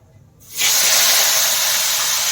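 Radhuni spice seeds drop into hot oil in a wok: near silence breaks suddenly into a loud, close, hissing sizzle that holds steady to the end.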